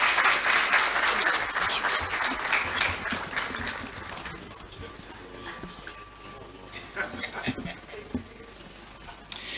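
A hall audience at a law alumni association launch and public lecture gives a round of applause for the Honorable Minister. It starts loud and dense, then thins out and fades over several seconds into scattered claps and low room noise.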